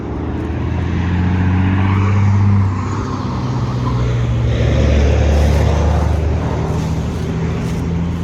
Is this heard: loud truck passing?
yes